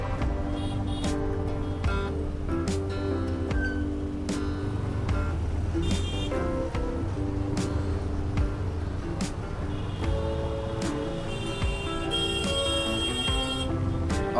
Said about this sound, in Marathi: पाहू शकता ट्रॅफिक.